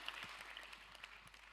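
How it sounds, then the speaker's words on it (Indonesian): Congregation applause during a church service, a dense, even wash of clapping from many people that holds steady throughout, moderately faint and without voices. "Tepuk tangannya lagi"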